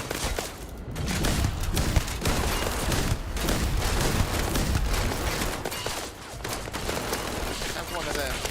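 Gunfire in the Starfield video game plays as a dense, continuous barrage of shots and blasts that fills the whole stretch, with speech faintly mixed underneath.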